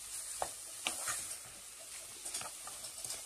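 Meat sautés in a pan for a Turkish eggplant and potato stew, soft sizzling with scattered light clicks and scrapes of stirring, fairly quiet and close, with no talk.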